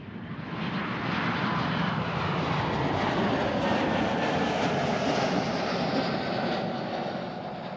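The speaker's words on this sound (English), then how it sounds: "This flight is a KLM flight on to Krakow." A KLM jet airliner at Amsterdam Schiphol, heading for Krakow, swells into a steady roaring rush of engine noise that builds, holds and then eases slightly, heard alone.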